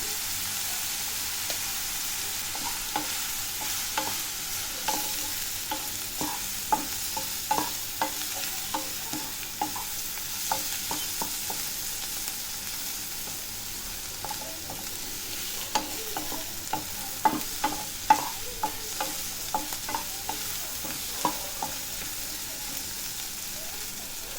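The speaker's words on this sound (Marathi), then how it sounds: "कांदा आपला आता भाजून झालेला आहे" Chopped onions with salt frying in oil in a pan, a steady low sizzle with frequent scraping and stirring clicks throughout, fairly close and unaccompanied by talk.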